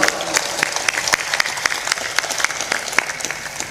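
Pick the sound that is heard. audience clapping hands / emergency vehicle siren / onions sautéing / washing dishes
audience clapping hands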